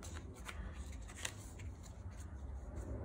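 Cards being shuffled into a deck during a tabletop game of Undaunted: Normandy, a steady riffling rustle lasting throughout, close and fairly soft.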